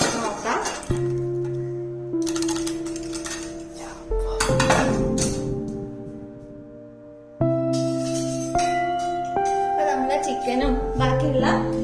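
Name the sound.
opening a pressure cooker lid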